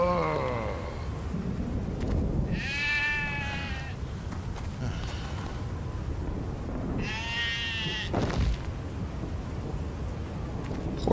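Two drawn-out sheep bleats from the video game Stubbs the Zombie ring out a few seconds apart over a steady rumbling backdrop like rain or distant thunder.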